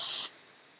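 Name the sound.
spraying Oribe Gold Lust dry shampoo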